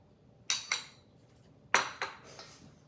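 Four sharp metallic clinks of a spoon against a bowl while ghee is added to flour for namak pare, arriving in two quick pairs, close and clear in a quiet kitchen.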